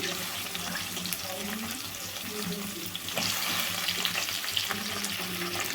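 Onion and brinjal pieces fry in a pan with a continuous close sizzle, which grows a little louder partway through, while a faint voice talks underneath.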